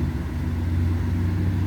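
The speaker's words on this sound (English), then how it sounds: "You might be able to hear it cycling the clutch." Ford F350 with a 10R140 transmission cycling its clutch, a steady low idling rumble with a faint tonal hum throughout, no distinct shift clunks standing out.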